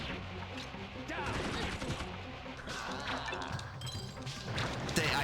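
Rapid bursts of gunfire from a video game crackle and thump through a dense, steady mix, with volleys overlapping and no pause between them.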